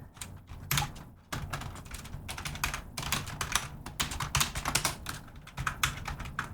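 Rapid clicking on a computer keyboard, a dense run of sharp key taps in uneven bursts, close and clear with no voices.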